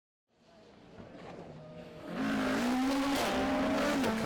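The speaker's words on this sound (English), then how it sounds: "Car sounding pokey as ever." Rally car racing on the Snetterton circuit in the Motorsport News Circuit Rally Championship, an engine approaching from silence and swelling to a loud, close, revving roar with shifting pitch as it passes.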